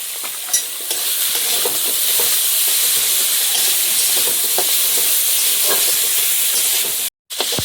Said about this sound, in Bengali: মশলাটা কষিয়ে নিয়ে চিংড়িগুলো দিয়ে চিংড়িটাও একটু ভেজে নিয়েছি।